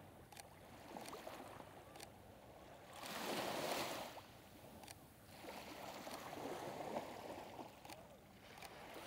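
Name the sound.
ocean waves coming in along the Stanley Park shoreline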